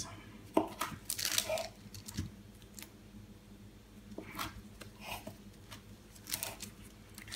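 A sharp knife slicing through slabs of blueberry white chocolate coconut bark, giving faint, irregular crunching snaps and crackles over quiet background hiss.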